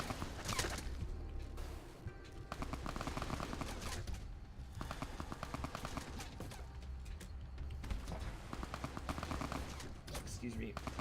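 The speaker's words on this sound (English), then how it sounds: "those guys are firing at us, and we have no way to fire back" Enemy gunfire in Fallout: New Vegas, with rapid bursts of shots crackling almost continuously throughout, loud and close, interrupted by a few brief lulls.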